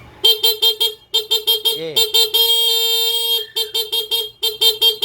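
A Suzuki Smash 115 motorcycle fitted with a stock regulator honks its horn up close in rapid bursts of short toots, with one longer sustained blast in the middle and a brief spoken word at one point.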